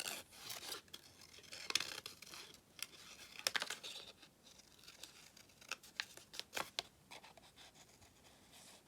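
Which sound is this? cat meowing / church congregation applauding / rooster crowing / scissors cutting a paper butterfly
scissors cutting a paper butterfly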